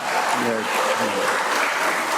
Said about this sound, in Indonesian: Kita tepuk tangan ya